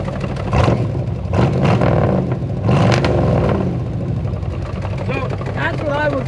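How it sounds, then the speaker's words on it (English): An old C50 truck, restarted after sitting for years, barks through Walker Blue Flame mufflers in a few loud, rowdy revs close by, with a rough rumbling idle between blips and some voices near the end. "That's what I would call a rowdy exhaust note."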